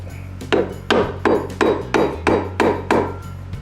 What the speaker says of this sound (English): the chrome's affecting it a little bit, so we're just going to tap it.